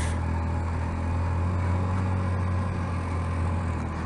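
A four-wheeled Qooder Quadro motorcycle accelerates under throttle on an open road, its engine a steady, loud drone with strong wind rush and no pause throughout.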